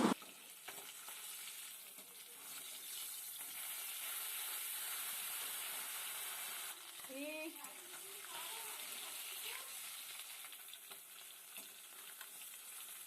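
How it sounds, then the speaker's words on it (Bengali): Live pond fish frying in oil in a wok, a steady broad sizzle and hiss running throughout at moderate level, with occasional clatter, and a voice or tonal sound briefly rising over it midway. "এই যে একে একে মাছগুলো দিয়ে সুন্দর করে লাল লাল করে আমি ভেজে নেব মাছগুলো"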